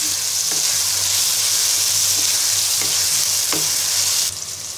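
Cauliflower and other vegetables hit hot oil in a wok for restaurant-style Chinese noodles, giving a loud, continuous sizzle with a few stirring clinks, then easing slightly at the end.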